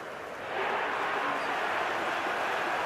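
A dense crowd roar fills a cricket stadium in the Cricket 26 video game during an India versus England one-day international, swelling after a brief moment and then holding as a steady, broad wash of cheering.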